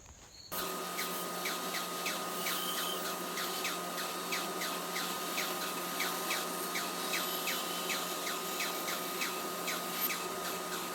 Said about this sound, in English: Adding a 1/4 inch piece of plexiglass to the bottom of this palm router and some handles gave me much better control while I was routing out the inlays.